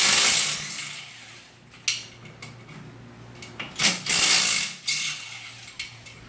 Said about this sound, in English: So now, gotta take these case bolts off.